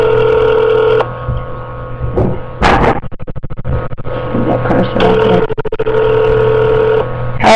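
A telephone call goes out: a handset's dialing tones, clicks and a repeating ring tone, close and fairly loud, with brief bursts of handling noise in between.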